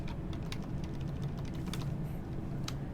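Steady keyboard tapping on shortcut keys while using R2Gate dental implant planning software; scattered clicks over a constant background hum, with no speech.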